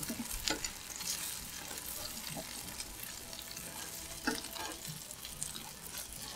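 Tortang talong, an eggplant omelette, sizzles in a pan with soft steady frying and a few scraping clatters from turning it over.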